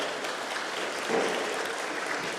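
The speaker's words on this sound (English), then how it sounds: "A round of applause" An audience applauds at a Profit with Purpose award ceremony as presenters come forward, a steady, even wash of clapping lasting a couple of seconds with no talk over it.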